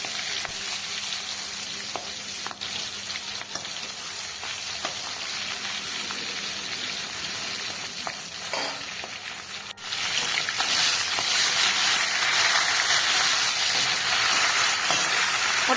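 Fish frying in hot oil, a steady close sizzle that runs throughout with faint clicks of a utensil, growing louder and fuller near the end.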